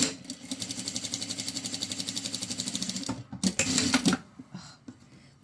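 Sewing machine topstitching across the top of a folded fabric pocket, running in a fast even chatter of needle strokes for about three seconds, then a short pause and a second rougher burst before it stops, close up with no talking.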